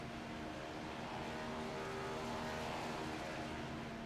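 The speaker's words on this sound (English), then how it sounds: "And here comes the pace car." An iRacing.com Ford Mustang pace car in the iRacing sim at Daytona drives past with a steady, loud engine drone that holds for several seconds and is heard alone without commentary.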